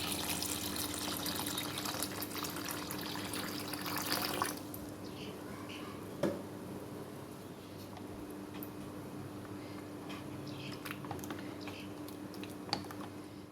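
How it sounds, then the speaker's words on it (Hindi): Taro root (arvi) being washed under running water in a kitchen, a steady faucet-like wash of water with a few light clinks, continuous for the whole stretch with no talking. "फिर पानी शामिल करके अरवी को अच्छी तरह धो लेंगे।"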